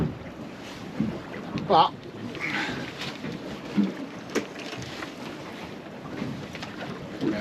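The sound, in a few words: fishing boat at sea with wind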